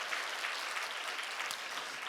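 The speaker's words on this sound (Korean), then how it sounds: "박수 치려면 힘차게 한번 쳐주시면 감사하겠습니다." Steady, dense applause from a church congregation, moderately distant and even in level, with no talking over it.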